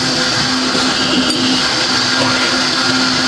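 A kitchen mixer whirs steadily as it blends confectioner's sugar and milk, a loud and continuous motor drone with no talk.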